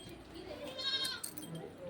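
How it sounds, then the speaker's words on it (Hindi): A goat led along to graze in a field, giving a faint wavering bleat amid quiet outdoor background and low movement. "बकरी को लेके जा रही हूँ मैं"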